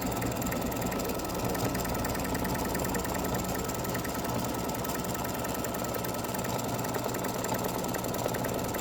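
An embroidery machine stitches a free-standing lace basketball earring, a steady rapid mechanical chatter and hum running continuously at moderate level with no voices.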